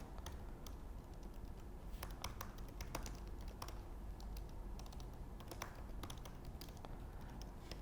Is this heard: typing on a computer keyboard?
yes